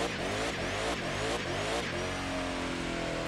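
Car engine revving hard in a drag race in The Crew 2, a loud sustained roar with rising and falling pitch sweeps, then settling into a steady higher drone, with no talk over it.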